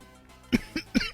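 Three or four sharp coughs in quick succession, close and loud, following a quiet moment.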